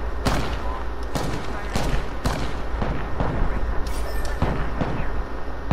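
Rapid bursts of gunfire ring out in a shooter video game, loud repeated cracks and booming shots in quick irregular volleys throughout, with a player's voice occasionally beneath the game sound.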